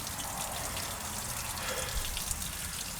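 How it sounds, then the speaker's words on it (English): Water draining from an RV tank and splashing onto the ground, a steady faint hiss and trickle with no voices. "I gotta wait for all the water to drain out."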